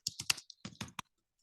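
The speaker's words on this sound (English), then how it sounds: "If I type in here" Brisk typing on a computer keyboard, about eight close, crisp key clicks in quick uneven succession over a second, then silence, with no talking.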